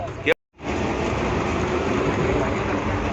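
The Garib Rath Express heard from inside a third-class coach, a steady low rumble of the running train after a brief cut near the start, with a voice faintly present.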